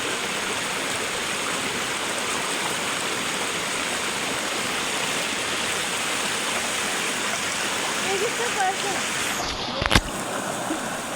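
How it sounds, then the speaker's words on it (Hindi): Water of a hill river rushes steadily while someone wades across it in rural Himachal Pradesh, a loud continuous broadband wash with a brief splash near the end. "गाइस मैंने ऐसे ही नदी क्रॉस की है जैसे बड़ी मम्मी कर रहे हैं।"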